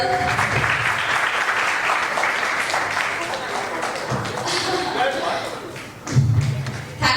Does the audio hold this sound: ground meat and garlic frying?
no